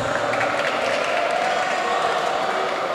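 Students clap together in a rhythmic classroom clap game at a vocational high school, a dense, steady patter of many hands with a murmur of voices mixed in throughout.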